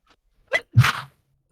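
A single quick sneeze, a sharp intake followed by a burst, close and fairly loud, then silence.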